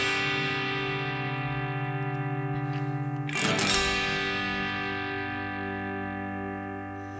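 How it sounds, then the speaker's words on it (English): Big open guitar chords with heavy distortion ring out loud and sustained, a strummed chord sustaining before a sharp new strike that decays slowly into a long, fading ring. "big open guitar chords that have some distortion on them"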